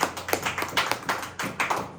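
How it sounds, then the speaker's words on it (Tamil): Hands clap in church in a quick, even rhythm, about four sharp claps per second, faint and with no talk. "கைத்தட்டி ஆண்டவரை மகிழ்ப்படுத்தலாமா?"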